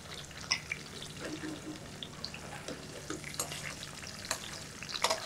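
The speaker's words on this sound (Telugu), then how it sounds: "లైట్ గా ఫ్రై అవ్వాలండి." Diced vegetables frying lightly in oil for veg dum biryani, a soft crackling sizzle with scattered pops and stirring clinks, fairly quiet throughout.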